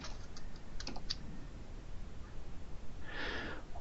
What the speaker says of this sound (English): You will enter in your login information, and in the case of demo here, we're going to use a demo account and a demo password.